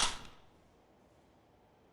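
A single sharp gunshot from a video game, a loud crack at the start that decays quickly into a faint, quiet tail with no talking.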